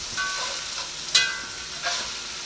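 Spices mixed into a seafood boil mixture with a soft, steady sizzle and a couple of sharp scraping clinks of a utensil against the pot, close and clear with no talking.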